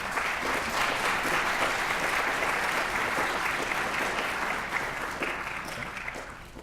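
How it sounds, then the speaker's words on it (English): A luncheon audience applauds the panelists after a STEM panel discussion, a steady, dense round of clapping from a roomful of people that holds strong throughout and tapers slightly toward the end. "I'd like to give them a quick round of applause for it."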